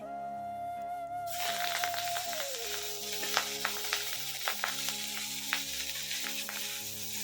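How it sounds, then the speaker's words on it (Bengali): Rui fish coated in turmeric and salt sizzle in a hot wok, a steady broadband hiss with scattered sharp pops and crackles over a low electrical hum, with no voices. "এদিকে হচ্ছে আমার কড়াইটা গরম হয়ে গেছে মাছগুলো এখন দিয়ে দেব কড়াইয়ে"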